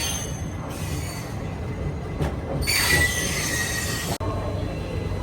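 A MEMU train arrives at a platform in Vijayawada station, with a continuous low rolling rumble and a shrill wheel squeal rising midway before cutting off abruptly near the end.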